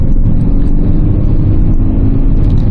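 A Kia Carnival fitted with a Tan R racing-version intake flow booster, accelerating with a loud, steady mid-range engine drone heard from inside the vehicle, with no talk over it.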